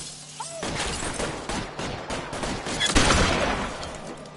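Bursts of gunfire in the L.A. Noire video game, a rapid fusillade of repeated shots at moderate distance that swells louder near the end, with no talking over it.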